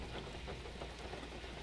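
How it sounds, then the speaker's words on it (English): Steady rain drums on the roof of a camper van at night, a dense, even patter that stays close and constant with no talk. "listening to this rain while I slept"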